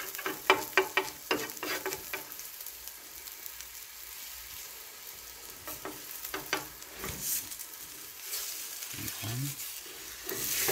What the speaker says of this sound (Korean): 이제 노릇노릇하게 맛있게 구워주죠.